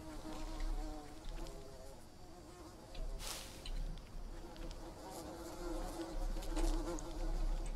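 A loud insect buzzes continuously in the jungle survival game Green Hell, a steady close drone layered over busy game ambience with no speech.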